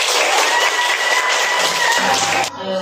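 A primary school class of about fifth graders claps together in a classroom, a loud dense burst of applause with mixed cheering voices that cuts off abruptly near the end.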